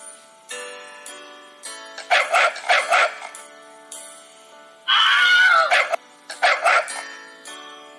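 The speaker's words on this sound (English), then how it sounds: "The dog barked at the ugly duckling" A cartoon-style dog barks in a children's story, sharp paired woofs in a few short groups over a ticking clock-like background, with a brief squeaky flutter in between.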